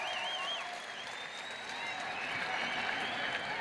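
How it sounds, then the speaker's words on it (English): Crowd applause at a women's fight event after a bout, steady roar of clapping with whistles and shouts layered over it, fairly distant. "let's give both these ladies a big round of applause"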